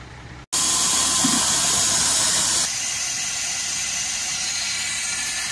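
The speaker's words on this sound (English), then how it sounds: "So let's go fill the sprayer up." A crop sprayer tank fills for blackgrass spraying, a loud steady rush of water after a brief dropout at the start, easing to a slightly quieter, even hiss partway through.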